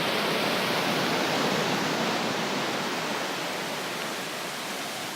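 Steady broadband roar of surf washing onto a beach, loud and continuous with no distinct breaks, heard up close without any voices.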